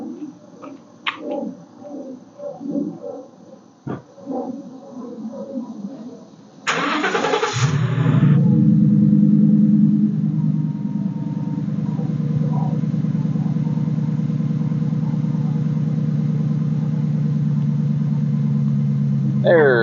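A Ford F150 with a universal exhaust cutout cranks over and settles into a steady, loud, deep idle rumble, with a person talking quietly beforehand.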